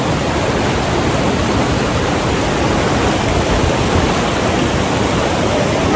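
Meltwater from ice rushing along a mountain stream on the Hampta Pass trek, a steady, loud, broadband water roar that fills the scene without a break and carries no voices.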